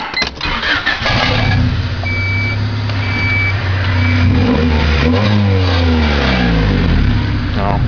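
A 1991 Honda Civic DX engine cranks and fires up, then settles into a loud, steady idle with a low droning hum close to the microphone.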